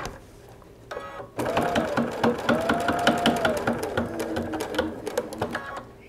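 Sewing machine stitching binding onto a Christmas pot holder, a close, steady rapid whir of needle strokes that starts after a short pause and runs continuously.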